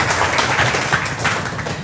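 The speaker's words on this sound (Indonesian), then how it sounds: "tepuk tangan dulu dong buat strong kanggeng" An audience claps together for a brief burst, a busy patter of many hands at moderate loudness with no voices over it.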